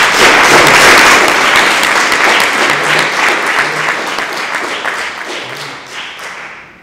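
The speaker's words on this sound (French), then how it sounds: "je pense qu'on peut les applaudir, même s'ils ne sont pas là" Applause at a municipal council meeting in Mallemort, a room of people clapping steadily and fairly loudly, gradually thinning and tapering off toward the end.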